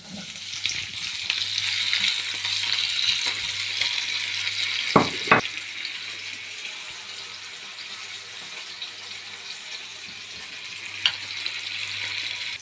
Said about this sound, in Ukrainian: Сковорідка нагрілася, засипаємо картоплю.